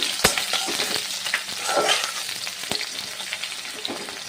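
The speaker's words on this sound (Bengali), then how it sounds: "তেলটা গরম হয়ে গেছে দিয়ে দেবো কয়েকটা শুকনো লঙ্কা গোটা জিরে হাফ চামচ পাঁচফোড়ন পেঁয়াজ কুচি" Dry red chillies, whole cumin, panch phoron and chopped onion fry in hot mustard oil with a constant close sizzle, broken by a few sharp utensil clicks as the pan is stirred.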